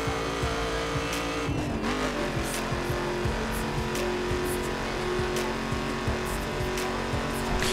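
A car drives at speed through the open-world racing game The Crew, its engine droning loud and steady with shifting revs, a brief tire squeal and rapid clicking road noise beneath.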